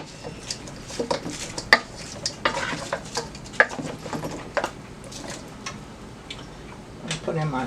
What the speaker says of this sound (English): Let me give that a stir again